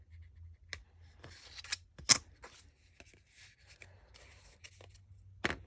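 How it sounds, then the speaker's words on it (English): Scissors cutting carefully up the center of a paper flower template, a close series of crisp snips and paper rustles in an otherwise quiet room. "We're going to take our scissors and we're going to very carefully cut up the center."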